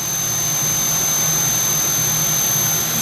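A Tsugami SS-20 CNC Swiss lathe turning a long part at 6,000 RPM gives off a steady, loud, continuous machine whine with a low hum underneath. It runs unbroken from start to end, and no one speaks.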